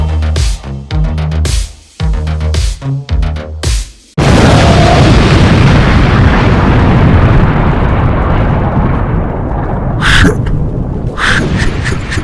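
Cannon fire from a ship booms loudly, first as a run of rapid heavy blasts, then one huge sustained explosion that rumbles on for seconds with a few further bursts near the end.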